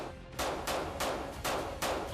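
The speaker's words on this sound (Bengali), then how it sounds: "সাসপেক্ট গুলি চালায়।" Gunfire from a suspect during a police raid: a series of four or five loud, sharp bursts at roughly even intervals, each ringing out briefly.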